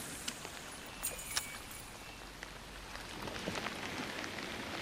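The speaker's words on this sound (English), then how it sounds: "The rain just gives a certain amount of interference." Rain falls steadily onto a river's water surface, a dense continuous hiss of drops with a few sharper pattering splashes scattered throughout.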